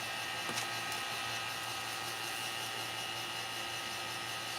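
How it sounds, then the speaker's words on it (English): A small vacuum pump runs steadily with a constant whirring hum and broadband hiss, unchanging throughout, close and alone without talk. "So this goes to my vacuum pump."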